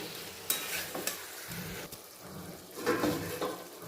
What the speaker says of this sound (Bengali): আবারও খুব ভালো করে নেড়ে চেড়ে নেব, ভালো করে কষিয়ে নেব।